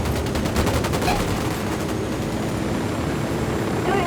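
Sustained rapid gunfire from soldiers in Ghost Recon Wildlands, dense crackling bursts and fusillade over a steady droning background, mid-distance and continuous, with no talk.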